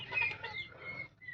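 Newly brought chickens in a poultry shed give soft, quiet clucks and short calls, faint and close, with no voices present.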